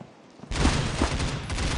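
Rapid gunfire erupts abruptly in the mobile shooter Critical Ops, attributed to an XD45 pistol, as a loud burst of overlapping shots that continues steadily after a quiet start.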